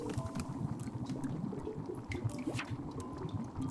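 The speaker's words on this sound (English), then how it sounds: "It's boiling." A tea kettle boils in the Wanderstop video game, with a steady bubbling, roiling wash of water and a few brief drips and clinks over it, held at an even, moderate level throughout.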